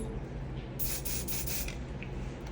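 Hair spray hisses from an aerosol can while a bun is styled, one steady burst of about a second close to the microphone over a quiet background.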